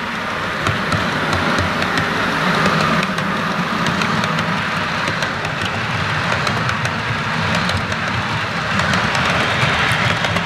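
A model train runs along a layout past a farm bridge, producing a continuous rattling, clattering rumble with a broadband whir, steady and fairly loud throughout, without any voices.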